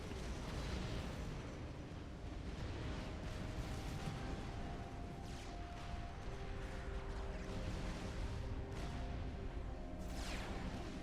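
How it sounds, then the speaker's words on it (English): Artillery shells from a T3 artillery installation explode in the strategy game Supreme Commander Forged Alliance, a series of booming blasts over a constant rumbling battle bed, fairly distant and muffled. "it just lobs shells across the map, going directly for that T3 artillery installation"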